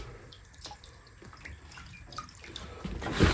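Water running from a tap over a set of old hand saws being rinsed clean, a steady quiet splashing with small drips that swells louder near the end, no talking.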